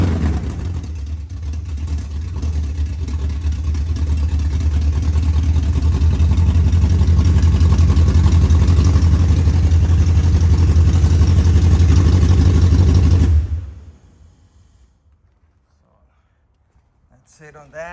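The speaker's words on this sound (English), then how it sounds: "basically you can hear the pump running." A 1987 Mustang Fox Body with a Coyote engine swap runs with a steady hum and constant power steering pump whine, loud and unbroken for about thirteen seconds, then cuts off abruptly into near silence.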